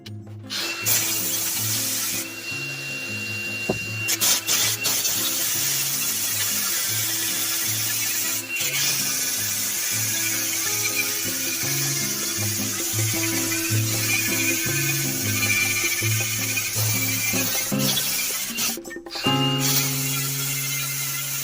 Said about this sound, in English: It's a sanding disc with it's like a 30 grit cubic zirconium or whatever. And we're going to grind this down.